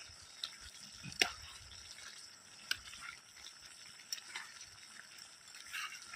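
About fifty dried red chillies fry quietly in oil for a chicken chilli fry, giving a faint, low sizzle with a few scattered sharp pops and clicks.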